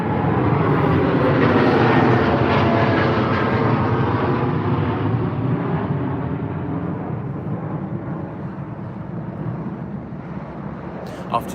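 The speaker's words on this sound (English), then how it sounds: "Another 787 here. For American Airlines." An American Airlines Boeing 787 departs London Heathrow, a loud, broad jet-engine roar that slowly fades as the aircraft climbs away, with no talking heard.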